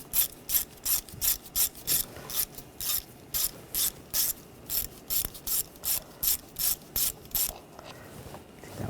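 A ratchet with an 8mm socket backs a screw out under the hood of a 2013-2019 Ford Escape, giving a steady, rhythmic series of about twenty close, crisp ratcheting bursts before slowing and fading.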